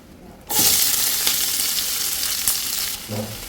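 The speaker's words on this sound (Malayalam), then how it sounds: "ഇപ്പോൾ പാനിൽ എണ്ണ നന്നായിട്ട് ചൂടായിട്ടുണ്ട് ഇതിനകത്തേക്ക് മൂന്ന് സവോള ചെറുതായിട്ട് അരിഞ്ഞ് ചേർക്കാം" Three chopped onions are dropped into a pan of hot oil already used for frying chicken, setting off a sudden loud, close sizzle that holds steady and eases slightly near the end with a faint stirring clink.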